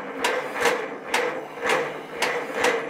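A 1943 Case SC tractor engine cranking over with a failing carburetor, giving a steady rhythmic chug of about two compression beats per second, loud and close with no voices.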